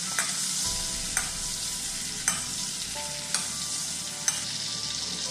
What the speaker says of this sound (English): You gotta baste the steak with some butter.